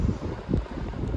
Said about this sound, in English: It's a little too windy.